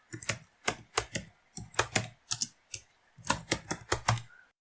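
Keys clatter on a computer keyboard as a name is typed, in short bursts of crisp, close clicks separated by brief pauses.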